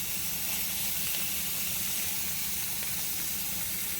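Food sizzles steadily in a hot pan while barbecue chicken and squash cook, a constant close hiss with no voices over it.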